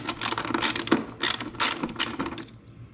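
A hand ratchet clicks in quick bursts of strokes, close and clear, as it backs an 11mm bolt out of a fairing bracket on a 2024 Road Glide motorcycle, pausing briefly between strokes.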